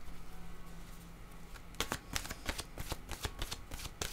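Oracle cards being shuffled by hand, quiet at first, then a rapid close run of crisp riffling flicks and slaps as the deck is worked before a card is drawn.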